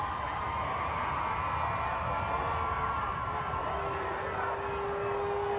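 The crowd at a high school football game between the Hampton Crabbers and the Phoebus Phantoms waits on a referee's call, a steady, distant roar of many voices with scattered shouts and cheers.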